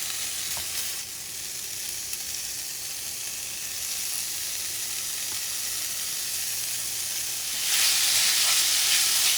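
Mexican pork chorizo longaniza sizzles steadily in a dry pan with no oil or butter, a constant close crackling hiss that grows louder and brighter near the end, with no talking.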